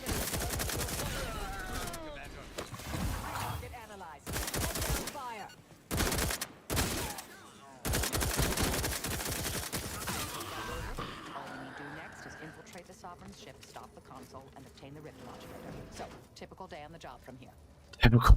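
Rapid bursts of gunfire from a weapon in the video game The Outer Worlds, loud volleys broken by gaps, then quieter stretches with someone talking.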